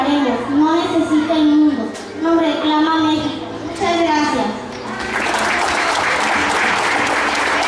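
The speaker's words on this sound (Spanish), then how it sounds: "Fuerte este aplauso para estas dos niñas que hoy nos dan estas bonitas palabras de agradecimiento." Audience applause fills a school graduation ceremony, breaking out after about five seconds of someone speaking and continuing as a steady, dense wash of many hands to the end.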